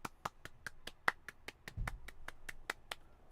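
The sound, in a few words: hand clapping on request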